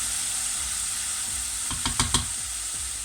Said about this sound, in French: décoller les sucres avec ce liquide